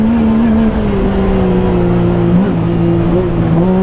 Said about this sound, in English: We have a Baja spec cage, fully race equipped, and this thing absolutely rips.